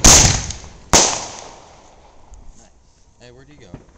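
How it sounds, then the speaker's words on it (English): Neighborhood artillery shell fireworks go off in sharp loud bangs, one at the start and another about a second later, each trailing into a long echoing rumble, then a voice speaks near the end. "Here's a big fireworks brand artillery."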